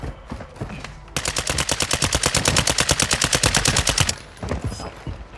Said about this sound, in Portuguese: tiro, um tiro